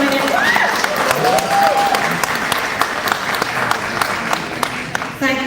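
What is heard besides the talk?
audience applause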